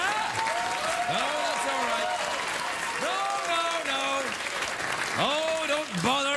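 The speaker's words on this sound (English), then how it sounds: "don't bother applauding me" A late-night talk show studio audience applauds steadily throughout, with whoops and cheering voices rising above the dense clapping.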